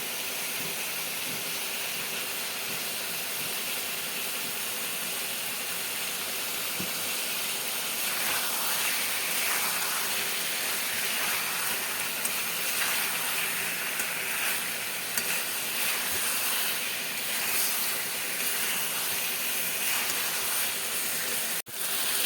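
Ghee goes into a hot pan of frying spices for a vegetarian potato and cauliflower curry, giving a steady, close hissing sizzle that holds for a long stretch with faint stirring scrapes and no talking.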